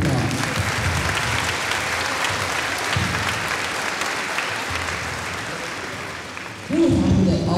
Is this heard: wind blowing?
no